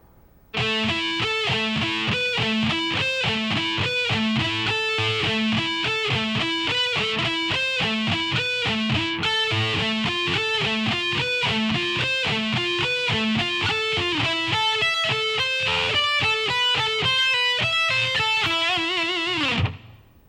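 Electric guitar with distortion plays a full lick at slow tempo, a steady stream of picked notes lasting about twenty seconds, loud and unaccompanied, ending abruptly.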